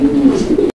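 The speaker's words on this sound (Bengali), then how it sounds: "এখানে আরো এক জোড়া ম্যাকপাই কবুতরের কালেকশন রয়েছে" A pair of magpie pigeons coo in a low, steady rolling drone, close and moderately loud, breaking off in a brief gap near the end.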